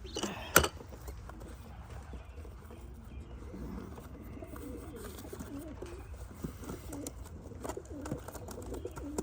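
Racing pigeons coo softly in low, throaty bursts against a quiet, rustling background, with a sharp knock near the start.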